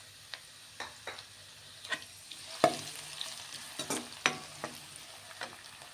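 Finely chopped onion and green chillies fry quietly in a pan, a faint sizzle broken by sporadic sharp clicks and taps from stirring, with no voices.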